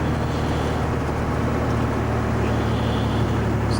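A 1981 Volvo F12 truck in sixth gear at about 1800 revs, engine-braking as it pulls downhill, giving a loud, steady low drone with road and wind noise and no talk.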